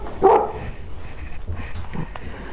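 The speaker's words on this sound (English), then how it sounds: "My dog is barking" A pet dog indoors gives a sharp bark, then a few softer yips and whimpers, fairly close and otherwise quiet around it.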